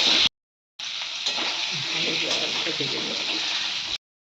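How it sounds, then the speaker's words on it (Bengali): Potato pieces with turmeric and salt frying in oil, a dense steady sizzle close to the pan, cut off briefly near the start and then continuing evenly with faint stirring underneath. "আলুটা ভেজে নেবো"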